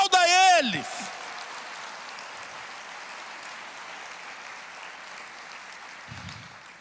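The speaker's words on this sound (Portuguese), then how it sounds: "Glorifique ao Senhor, aplauda a Ele." A church congregation applauds in praise during a worship service, a soft, even wash of clapping that continues steadily after a short burst of a preacher's voice at the start.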